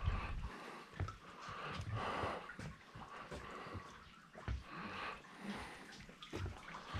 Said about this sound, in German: Das Wasser tropft da runter und bildet sich damit halt Kalk.